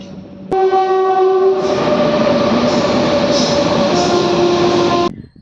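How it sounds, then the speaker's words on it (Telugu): A MEMU train at Repalle railway station sounds its horn loudly at close range, a sustained blaring tone lasting several seconds before cutting off abruptly. "ప్రజెంట్ మనం రేపల్లి రైల్వే స్టేషన్లో ఉన్నాం"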